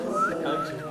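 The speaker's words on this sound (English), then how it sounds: "I whistle." A person whistles a wavering, improvised melody alone, the tone sliding up and down in a steady, close stream for about a second.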